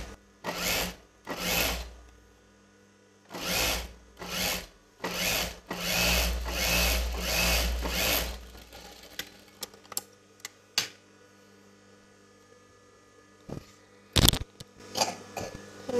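A sewing machine stitches a chudidar front neck, running in several short bursts of rapid mechanical stitching close by, with pauses between runs and a few faint clicks and handling noises afterward.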